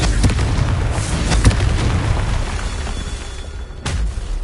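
Confringo blasting spells from Hogwarts Legacy burst in a string of loud, close explosions, sharp booming impacts at irregular intervals over a rumbling battle backdrop, with a final blast near the end.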